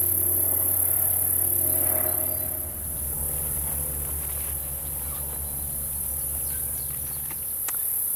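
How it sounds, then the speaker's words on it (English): Insects sing along a summer river trail, a steady high-pitched chirring drone that carries on unbroken throughout, with faint low background rumble and no voices. "I hear the birds calling and the insects singing"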